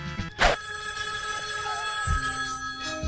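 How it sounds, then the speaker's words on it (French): A steady electronic telephone ring from the NES game James Bond Junior, with sustained chiptune-like tones throughout and a brief louder burst near the start. "Le téléphone sonne."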